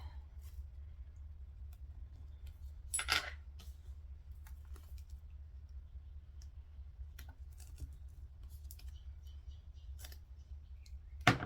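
Scissors snip and trim a strip of 3/4-inch double-sided tape for a bucket bag, giving a few brief crisp cuts, one louder near the start, over a steady low hum with no talking.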